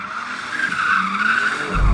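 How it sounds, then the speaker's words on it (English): A new BMW M4 drifting from a start in first gear, its tyres squealing in a sustained, loud skid over the engine's drone, with a heavier surge of engine noise near the end. "the best way to acquaint myself with the car is to drift it before doing anything else"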